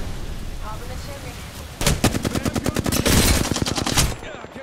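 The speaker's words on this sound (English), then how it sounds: "Getting shot at." Rapid automatic gunfire in the Apex Legends battle royale shooter, starting suddenly after a quiet stretch of ambient game noise and continuing as loud, dense bursts for a few seconds before cutting off.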